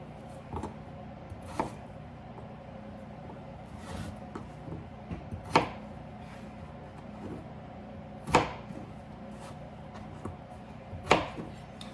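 A knife cuts potatoes on a board as part of a burger bowl prep, giving sparse, distinct chops that land a few seconds apart over a quiet kitchen background.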